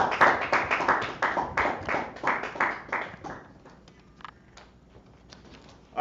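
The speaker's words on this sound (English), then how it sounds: "Clap it up for the class." A class claps together in a dense burst of handclaps for about three seconds, then the applause thins out to scattered, fading claps and a few taps.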